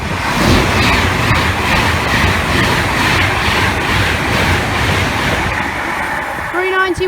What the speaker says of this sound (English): we've got an Avanti West Coast Class 390 going, excuse me, from I believe Liverpool Lime Street to London Euston